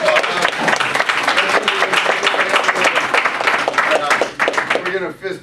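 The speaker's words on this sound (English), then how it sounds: "Give him a big round of applause." A live audience at a clean comedy magic show applauds in a dense, steady burst of clapping that fades out near the end, with a voice briefly audible underneath.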